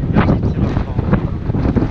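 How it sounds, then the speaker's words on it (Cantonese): Strong wind on the coast of Gozo buffets the microphone, making a loud, continuous low rumble that swells and dips without a break. "大風你未必收得到我講嘢"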